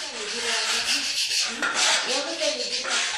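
A tool scrapes the old surface off a floor before hanji paper flooring goes down, giving continuous rough, rasping strokes at close range with no talking.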